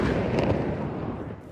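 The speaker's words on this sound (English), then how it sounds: "the blazes triggered a series of explosions at an Air Force ammunition depot" A heavy explosion at an Air Force ammunition depot during wildfires in central Greece: a loud, sustained low rumbling blast that fades away over about a second and a half.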